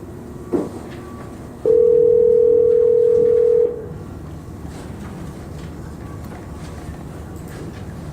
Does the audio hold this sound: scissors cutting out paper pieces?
no